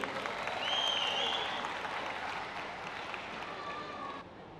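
Audience applause at a carnival lucky draw event, a steady wash of clapping heard at some distance, fading slightly toward the end with a faint voice beneath.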